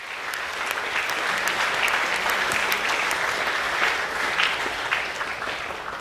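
Steady audience applause fills a school awards assembly, a dense, continuous patter of many hands clapping at moderate loudness for about six seconds.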